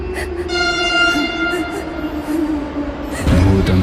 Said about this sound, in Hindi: मेट्रो और करीब आती है।